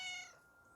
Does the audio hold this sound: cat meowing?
yes